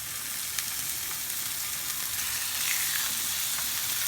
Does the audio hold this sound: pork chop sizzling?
yes